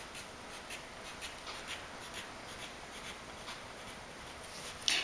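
Pen scratching on paper while drawing a dragon's pointy teeth, quiet close strokes in a quick uneven rhythm of short scribbles.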